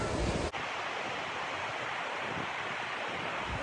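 Sea waves at Dois Rios beach on Ilha Grande, Brazil, heard from someone standing in the water: a steady, loud, broad wash of surf that fills the whole stretch with no clear breaks.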